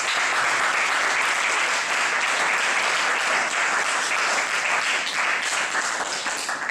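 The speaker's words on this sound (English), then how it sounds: "Let's give him another round of applause." An audience applauds a speaker at a talk, dense steady clapping that stays loud and even for several seconds without pause.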